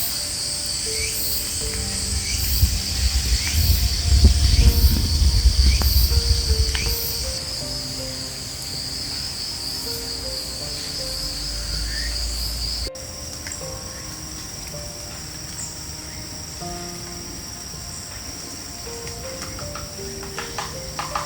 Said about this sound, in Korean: 매미 소리가 요란합니다.